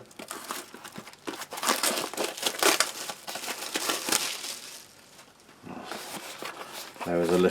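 Cellophane wrapping on a cardboard French army ration box crinkles and crackles up close as it is pulled open, in irregular bursts of sharp rustling with a brief pause near the end.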